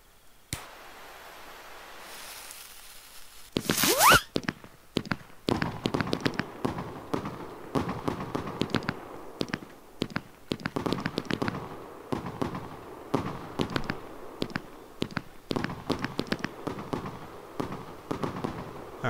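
A dragon battery firework in the video game Fireworks Mania launches with a whoosh and then explodes in a long barrage of rapid, loud cracks and bangs, dense and crackling over many seconds.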